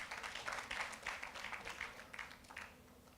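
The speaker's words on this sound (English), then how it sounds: "Please, can we give them a round of applause?" A seated audience at a human rights week event gives a round of applause for schoolchildren; soft, steady clapping that fades slightly over a few seconds, heard somewhat distant.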